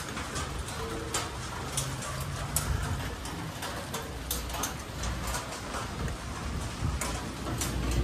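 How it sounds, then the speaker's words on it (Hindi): Heavy hail falls at the Jot mountain pass in Chamba during a camping and overlanding trip. It makes a dense, continuous pattering roar scattered with sharper ticks and impacts. "ओले पड़ रहे हैं बड़े ज्यादा"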